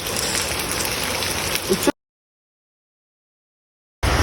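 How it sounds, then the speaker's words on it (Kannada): Heavy rain pours down as a dense, steady hiss for about two seconds. Then there is a stretch of dead silence, and the downpour cuts back in at the end. "ಫುಲ್ ಹೆವಿ ಮಳಿ ಬರಾಕತೈತ್ರಿ."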